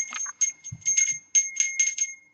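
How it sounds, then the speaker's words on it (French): A small hand bell rung several times in quick bursts to freshen a bedroom's energy in a feng shui setting, bright metallic rings that are close, moderately loud and heard alone. "on peut utiliser le carillon ou une clochette comme ça pour rafraîchir l'énergie"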